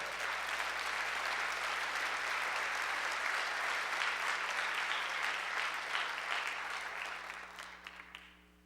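Sustained applause from a church congregation, loud and dense, continuing steadily before tapering off near the end.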